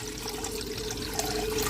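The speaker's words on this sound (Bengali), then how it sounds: "এখানে দিয়ে দিব এখন জল পরিমাণ মতো পাস্তাটা সিদ্ধ করার জন্য।" Water pours steadily into a cooking pot for boiling pasta, a continuous close rushing splash with no talk.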